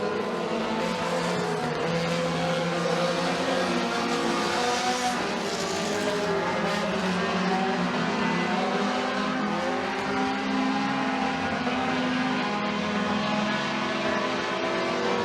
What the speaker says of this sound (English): But it is all Trevor Putt up front, out front, and pulling away